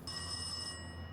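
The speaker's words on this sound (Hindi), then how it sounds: "अरे फोन बज रहा है आपका।" A mobile phone rings indoors with a steady electronic ringtone of sustained high tones, fairly quiet and heard alone for about a second before the ring cuts off.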